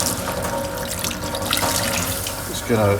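Tap water runs steadily into a pan of congee, with grains of rice still visible, a continuous splashing stream with a brief burbling gurgle near the end.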